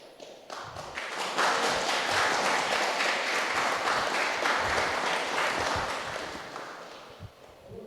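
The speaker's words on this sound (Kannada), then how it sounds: "ಯಾರೋ ಒಬ್ಬರು ಚಪ್ಪಾಳೆ ತಟ್ಟಿದ್ರು, ನೀವು ತಟ್ಟಿಬಿಟ್ರಿ" Audience applause swells quickly from a few scattered claps into a full, dense round of clapping, holds for several seconds, then thins out near the end.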